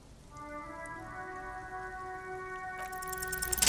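Soft, steady rain hisses faintly in the video game Disco Elysium, beneath sustained, drawn-out musical tones, and a brief brighter, louder patter breaks in near the end.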